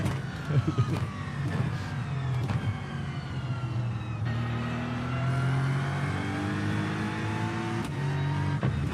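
A GTP or GT3 race car engine in the iRacing simulator at Spa, revving through repeated rising pitch sweeps as it accelerates and shifts gears, steady and close.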